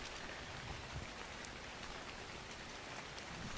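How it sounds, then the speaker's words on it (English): Steady rain patters continuously in the Ark: Survival Ascended video game, a dense, even hiss of falling drops with no talk over it. "I can fill up my water bottle because it's raining."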